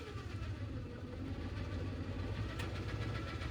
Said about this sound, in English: So if I just put it in first gear and I let off, this is high range.